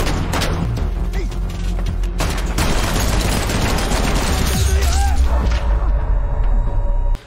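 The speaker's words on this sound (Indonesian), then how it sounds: "Pada saat itu Benicio sempat tertembak dan Santos mencoba untuk menggendong" Dense, loud gunfire from a heist film scene, rapid overlapping shots and booms forming a continuous barrage that rolls on without a break for several seconds.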